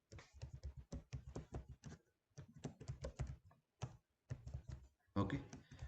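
Java code typed on a computer keyboard, heard as close, rapid bursts of key clicks separated by short pauses, with a denser flurry of keystrokes near the end.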